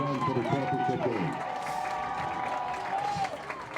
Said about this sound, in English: Once again, a big round of applause for Columbia and a great effort tonight